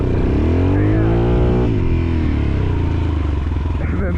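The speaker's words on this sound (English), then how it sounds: "this really loud muffler on the back makes it also pretty fun" A Yamaha XT350 dirt bike with a loud muffler revs up close, its rising engine note cutting off sharply before a rougher lower drone continues beneath talking.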